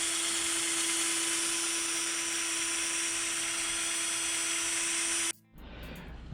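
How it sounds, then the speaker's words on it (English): A power drill bores through a welded steel bracket on a Mega Moto 212 minibike, a steady loud high whine held for about five seconds before it abruptly cuts off and winds down. "So let me drill through this one."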